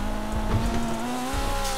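A car accelerates in a GTA roleplay game, its engine tone climbing smoothly over a short stretch of close, steady revving.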